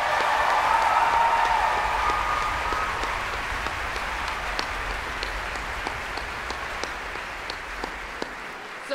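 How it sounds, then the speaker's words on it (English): At a choir gala concert in Christchurch, a large audience applauds loudly and warmly, the clapping gradually thinning into scattered individual claps near the end. "That deserves another round of applause"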